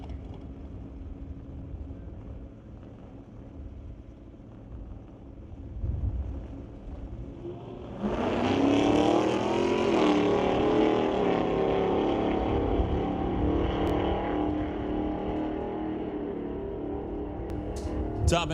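Super B drag race cars, one a Chevelle, sit idling at the line in an ET series bracket race and then launch, a loud engine roar suddenly swelling and holding as they run down the track.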